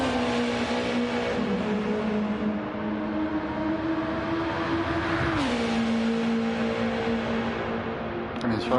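A race car engine in Gran Turismo 7 on the Nürburgring 24h circuit drones steadily at high revs, its pitch slowly climbing, then dropping sharply midway before holding a lower, even note.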